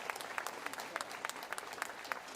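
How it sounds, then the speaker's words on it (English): Mourners clap spontaneously at a funeral as a coffin is carried away, a faint, somewhat distant patter of applause with individual claps popping out irregularly at low level. "Another spontaneous round of applause broke out as Bobby's coffin was taken away for the fin"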